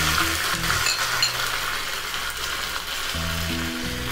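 Cumin, dried red chilies and curry leaves crackle in hot oil for a yellow pumpkin curry, making a steady, close sizzle, while soft music plays at the start and again near the end.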